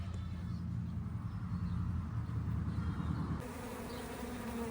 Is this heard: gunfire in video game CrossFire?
no